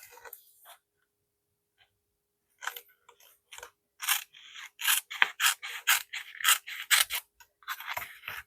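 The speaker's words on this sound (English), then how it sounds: "So let me cut it to this line" Scissors cut material along a line, up close: a few isolated snips, then a quick run of rhythmic crisp cuts, each a short bright crunch, separated by brief silences.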